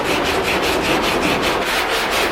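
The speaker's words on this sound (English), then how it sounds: "I'm sanding, man, sanding." Sandpaper is rubbed rapidly back and forth across the hood of a junkyard Cadillac in a steady, rhythmic rasping scrape, loud and close with no talking.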